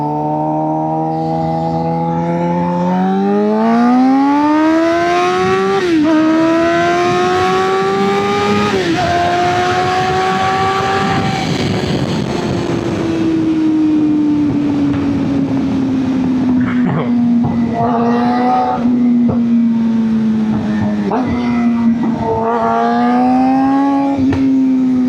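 Suzuki GSX-R 750 sport motorcycle engine running close by, revving up and down in repeated rising and falling sweeps with a strong harmonic whine, loud and continuous with brief throttle blips throughout.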